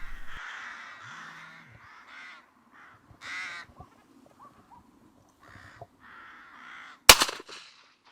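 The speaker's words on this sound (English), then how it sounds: "Then the familiar sound of crows signals that we're back in business." Crows caw repeatedly from a short distance around a hunting hide. The calls come in scattered bursts over a quiet background, and one sharp, loud bang near the end stands well above them.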